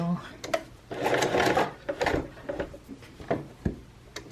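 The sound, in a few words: sewing machine stitching, hand wheel turned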